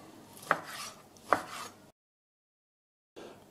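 A knife chops vegetables and beef fillet on a board for a Dutch oven noodle stir-fry cooked over coals: two sharp, close chops about a second apart, then a silent gap before faint handling sounds return.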